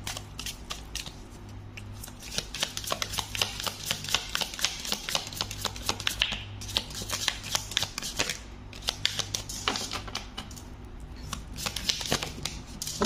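Tarot cards are shuffled continuously and close up, a dense run of rapid riffling flicks and soft slaps lasting the whole stretch with no talk.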